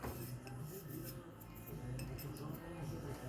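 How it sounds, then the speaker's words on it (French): Utensil stirring salt into dough in a bowl, with continuous clinking and scraping of metal against the bowl at close range, steady throughout. "Je remue pour essayer d'espacer le sel que je viens de mettre."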